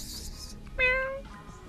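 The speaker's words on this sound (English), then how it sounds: "there's this beautiful cat running around here" A cat gives a single clear, drawn-out meow up close, rising then fading, with quiet outdoor background before and after.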